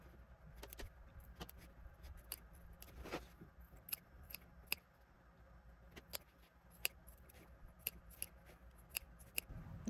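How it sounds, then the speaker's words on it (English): Sharp scissors snip into the seam allowance of a sewn fabric garment, a series of quiet, crisp clicks spaced irregularly across a hushed room, close but soft. "So I've clipped into that seam allowance all nice and neat."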